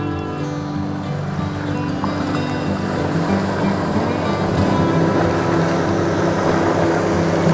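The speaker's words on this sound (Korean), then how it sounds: "지금 호수에 보트가 달리고 있습니다" A motorboat runs across a mountain lake, Sanjeong Lake, its steady engine drone continuous and moderately loud under wind and water wash, with no talk over it.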